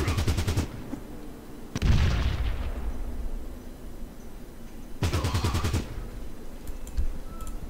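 Gunfire through a window in the video game Fallout Tactics comes in two loud bursts of rapid automatic shots around a heavy boom with a long decaying rumble, followed by a few scattered faint clicks.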